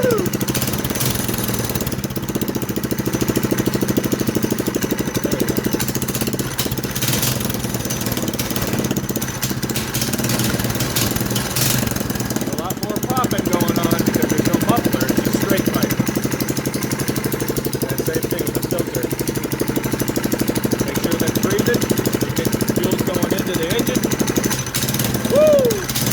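A Predator 212cc single-cylinder engine on a Manco go-kart runs loud and close on a cold day, a steady rapid thumping idle with slight revving swells, and people talk briefly over it.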